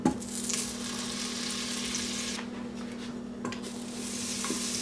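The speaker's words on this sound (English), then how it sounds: "now that your pot is hot, add a tablespoon of butter" A tablespoon of butter sizzles in a hot pot on saute mode, a steady close fizz with a low constant hum beneath, briefly dipping twice before resuming, no speech.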